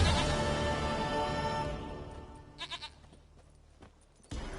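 A goat in The Witcher 3: Wild Hunt gives a brief, faint wavering bleat behind a fading ambient wash, followed by quiet scattered clicks.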